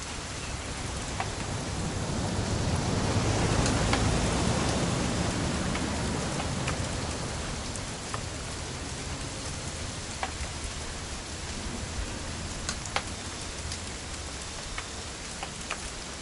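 Steady rain in the video game What Remains of Edith Finch falls continuously, a dense hiss of drops with occasional sharper taps, swelling slightly early on then holding even throughout.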